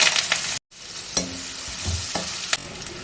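Mustard seeds, urad dal and onions sizzle steadily in hot oil, close and loud, with a few scraping stirs and light pops across the crackle.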